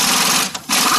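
A power socket tool whirs loudly and continuously on the rear wheel bearing bolt of a 2000-2005 Dodge Neon, breaking off briefly in the middle before resuming.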